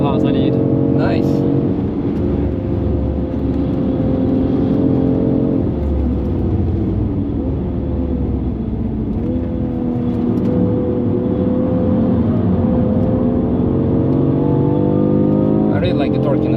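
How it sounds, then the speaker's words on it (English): Alpina B3 wagon engine pulling under acceleration on the Nürburgring, a steady close-up cabin drone with gently shifting pitch as revs rise and ease off, with a voice talking over it. "I really like the torquiness of the engine."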